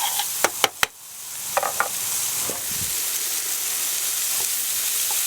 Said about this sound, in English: I'm going to add in the celery. And I get the carrots in there as well.